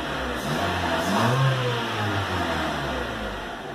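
A low-mileage 2000 Honda Civic engine idles roughly, its hum rising and falling as the unsettled idle hunts around 750 rpm, heard up close with no voices.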